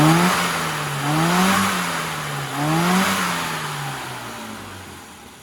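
A tuned Mini Cooper engine, modified with a needle lathe, revs up and down in two clear surges, its loud mid-pitched drone rising and falling, with no talk over it.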